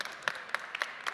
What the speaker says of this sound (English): we'll wait for the applause